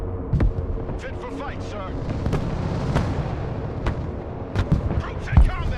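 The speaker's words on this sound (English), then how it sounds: "Just hit that with a bombing strike" Bombing strike explosions in the military strategy game Broken Arrow, with several sharp booms and thuds spread through a busy battle mix while a voice speaks briefly.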